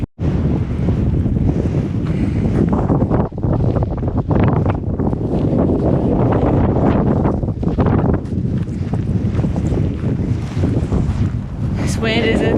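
Strong gusting wind buffets the microphone on an exposed stretch of the Laugavegur backpacking trail, a loud continuous roar with surging peaks that fills the whole clip, with no speech.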